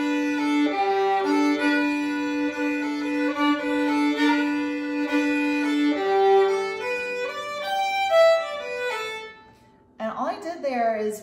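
A fiddle plays a melody in double stops against open strings, two bowed strings ringing together steadily for several bars before stopping, followed by a brief voice.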